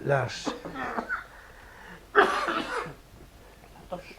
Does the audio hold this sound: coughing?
yes